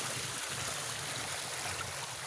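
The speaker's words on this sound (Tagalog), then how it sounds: "Dadaan ako sa may ilog." A rural river in the Philippine countryside flows along a path toward rice fields, giving a steady, broadband rush of water with no pauses.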